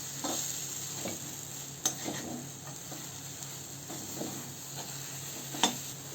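Gram flour bhurji stir-fried in a pan gives a soft, steady sizzle with occasional scraping and tapping of the spatula against the pan at an easy, irregular pace, close and moderately quiet.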